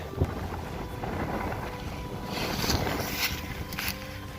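Steady wind blowing across a microphone outdoors, a dull rushing roar with occasional hissy gusts, no talking.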